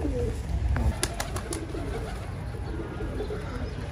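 Newly bought pigeons coo close by in a series of soft, throaty calls, with a few light clicks and flutters scattered through and steady background noise beneath.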